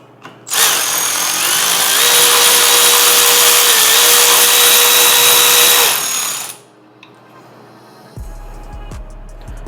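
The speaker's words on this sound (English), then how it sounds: "we can go ahead and take this nut off" A power tool spins a 10mm nut off a Honda Civic Type R shifter bracket with a loud, continuous whirring whine lasting about six seconds. It then cuts out to quiet, followed by a few low knocks.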